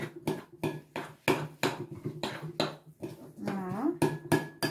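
Carob chocolate mixture with coconut oil being stirred in a bowl, giving repeated scraping and clinking strokes of a utensil against the dish at a steady rhythm, close up, with a few brief spoken words mixed in.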